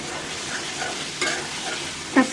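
Onion and garlic frying in a pan before kachki fish is added, a steady moderate sizzle with soft stirring and a light utensil tap near the end, no speech.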